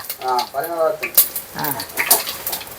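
Onions and mutton fry in a pan for a mutton sukka, giving a close, dense sizzle with stirring and utensil scrapes while a voice talks over it.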